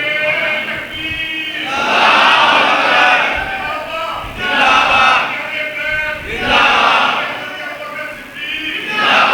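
A crowd at a religious sermon in Faisalabad chants a slogan in loud unison, rising in repeated swelling bursts roughly every two seconds with brief lulls between.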